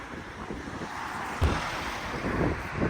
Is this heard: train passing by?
no